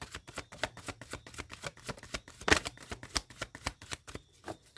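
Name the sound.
tarot cards being shuffled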